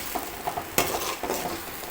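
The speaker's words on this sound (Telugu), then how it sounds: "ఆ టమోటో పేస్ట్ని ఇందులోకి యాడ్ చేసుకోవాలి. ఈ విధంగా బాగా కలుపుకోవాలి." Tomato paste being stirred into a fish curry in a wide, deep kadai, with soft scraping and gentle sizzling strokes, one louder clatter partway through, close and steady with no talking.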